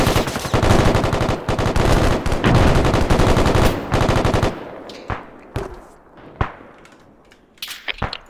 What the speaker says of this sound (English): MGs, get your position set up and start laying heavy down contact